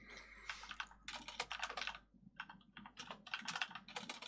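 Quiet, close typing on a computer keyboard during a coding lesson, irregular bursts of key clicks with short pauses between them.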